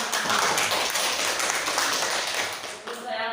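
A class of students claps together in a classroom, a dense burst of applause that holds steady before tapering off near the end.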